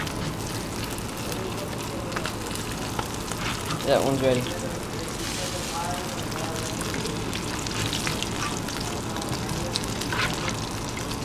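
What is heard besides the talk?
fish sizzling in frying pan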